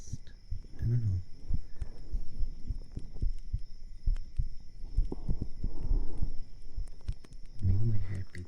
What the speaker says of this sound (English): Maybe my heartbeat's just really loud